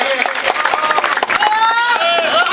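An audience at a Gujarati public gathering breaks into sustained clapping to welcome a guest on stage, a steady patter of hands that continues while a voice speaks over it.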